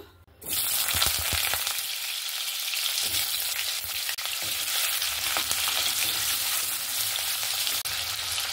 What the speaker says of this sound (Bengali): প্রথমে আমি আলুগুলো ভেজে নেব।